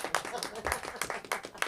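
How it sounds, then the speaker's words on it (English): An audience at a comedy show claps, a dense patter of clapping from the crowd that comes and goes over about two seconds. "Big clap."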